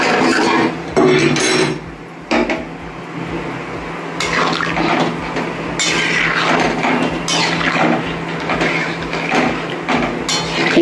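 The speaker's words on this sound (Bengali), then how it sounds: "এবার বন্ধুরা আমি গরম জলটা ডালে দিয়ে দিলাম।" Hot water poured from a pot into simmering lentil dal in a home kitchen, a steady watery rush with clinks of metal pots and utensils running throughout.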